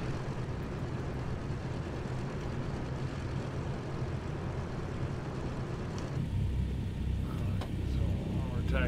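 Steady low drone of a Douglas DC-3's piston engines taxiing toward the terminal in a flight simulator, continuous and moderately loud, swelling slightly near the end, with a voice talking over it.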